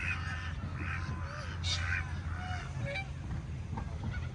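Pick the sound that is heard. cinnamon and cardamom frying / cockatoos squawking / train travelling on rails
cockatoos squawking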